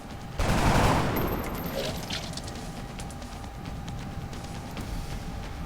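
Gunfire in the video game XCOM: Enemy Within with the Long War mod: a loud burst of rapid shots erupts near the start, then rolls off into a fading rumble and scattered crackle.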